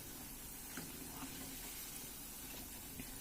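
Dahi vada sizzles crisply in hot oil while it is stirred, giving a steady, close hiss and crackle with faint scraping from the stirring.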